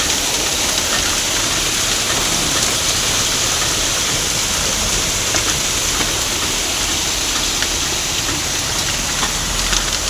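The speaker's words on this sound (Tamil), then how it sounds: "செம்ம ஐஸ் மழை தாங்க இன்றைக்கி" Heavy hail pounds down on a Bengaluru street in a dense, unbroken hiss and patter, loud and close, with faint scattered impacts and no voices.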